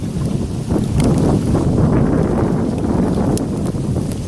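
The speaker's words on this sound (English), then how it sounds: "And that wind sure does help." Steady wind gusting around an outdoor fire pit burning very dry pine, a loud broadband rush with microphone buffeting that holds throughout without pause.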